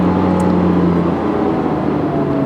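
A Porsche 911 GT3 engine hums loudly and close at a steady, smooth pitch, a sustained droning note with no speech.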